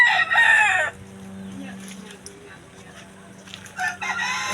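A rooster crows loudly at the start and again near the end, with chickens clucking in between, all heard nearby outdoors with no talk.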